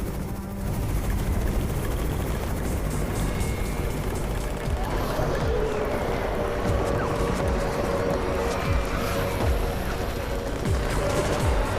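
A helicopter's rotor thrum drones steadily and loudly in the game Undawn, with rattling bursts and clatter layered over it in a game-like mix.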